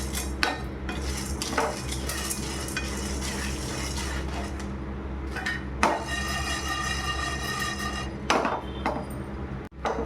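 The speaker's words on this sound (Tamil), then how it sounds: "கடலைப்பருப்பையும் நல்லா வந்து செவக்க வறுத்துக்கலாம்." Chana dal dry roasting in a pan, a steady rustle with clinks and scrapes of a utensil against metal, several sharper knocks, and a low constant hum beneath.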